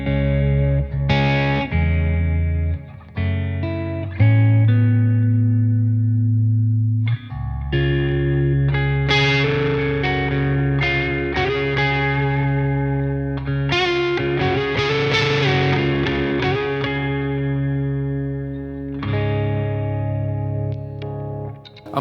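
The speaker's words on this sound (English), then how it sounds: "Let's throw on the DCX Boost with the same settings we just had in EQ mode." Electric guitar played through an Origin Effects DCX Boost pedal in EQ mode into an amp, giving loud, thick, slightly distorted sustained chords and single notes that ring continuously with no talking.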